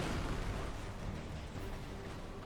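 A low, rumbling explosion in Red Faction Guerrilla, a sustained, dense roar of blast and debris that stays fairly quiet and even throughout, with no voices.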